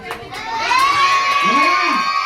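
Children shout and cheer together at a birthday puppet show, a loud, excited crowd of young voices rising into a long sustained yell with a few whoops over it.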